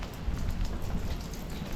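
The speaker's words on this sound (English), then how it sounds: "As you can see, it's raining." Steady rain pours down outdoors at dinner time, a dense, even hiss of drops on surfaces that stays constant throughout with no voices.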